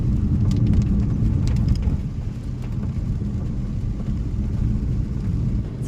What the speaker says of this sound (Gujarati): ધોરાજીમાં ધીમો ધીમો વરસાદ તો ચાલુ જ છે